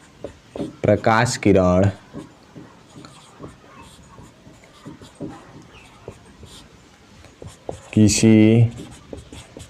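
Chalk tapping and scraping across a classroom board during a physics lesson, a run of short scratchy strokes in quick bursts, with a teacher speaking in Hindi at the start and again near the end.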